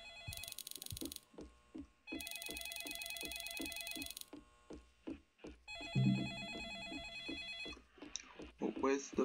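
Electronic telephone bell rings in repeated bursts inside the Roblox game Home Alone, loud and close, with game sounds and a voice talking over the later part.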